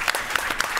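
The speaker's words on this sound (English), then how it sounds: "let's give a big round of applause to our panelists." Brief applause from a small audience thanking the panelists at the close of a business show, with separate hand claps audible in an uneven rhythm rather than a dense roar.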